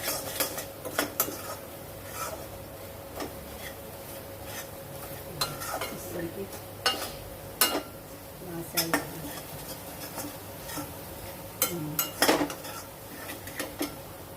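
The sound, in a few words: Kashmiri chilli and black masala being sautéed and stirred in pan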